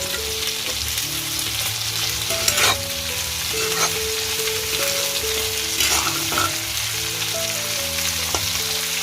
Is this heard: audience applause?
no